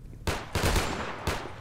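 Three heavy gunshots ring out in the multiplayer shooter Double Action Boogaloo, each a loud blast with a booming tail, spaced unevenly within under two seconds and no voices over them.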